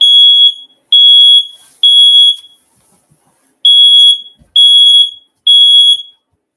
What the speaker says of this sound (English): My little smoke alarm went off for my incense.